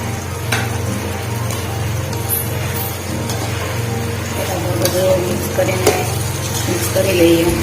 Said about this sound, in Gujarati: મિક્સ કરી લઈએ.